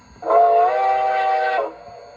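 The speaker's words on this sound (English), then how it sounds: "F4 is a short whistle." A short, steady steam-style whistle from an LGB 2019S model train with a Zimo sound decoder sounds once for over a second, clear and fairly loud, then cuts off.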